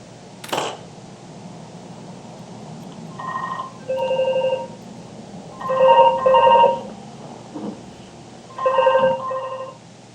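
A telephone rings while a laptop is being repaired: a sharp knock, then several short, loud bursts of electronic ringing spaced a second or two apart over a low steady hum.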